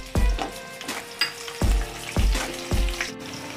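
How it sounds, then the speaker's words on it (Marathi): Onion sizzles in hot oil with cumin seeds in a pan, stirred in about four distinct scraping strokes with sharp clacks, the frying hiss steady underneath; mixed winter vegetable curry. "त्यामध्ये आता हा कांदा आपण टाकून व्यवस्थित परतवून घेऊया"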